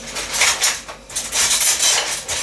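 Metal cutlery clinks and rattles in quick bursts, like utensils being sorted through in a drawer, close and fairly loud.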